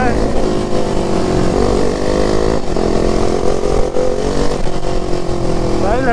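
KTM RC390 BS3 motorcycle on a night ride, its single-cylinder engine droning loud and steady with rising and falling revs throughout, alongside faint voices.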